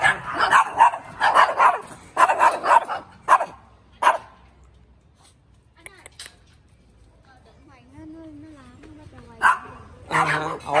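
A dog at a temple barks and yips in several short bursts, with people talking around it and some quieter gaps between the barks.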